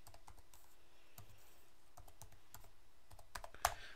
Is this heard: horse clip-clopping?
no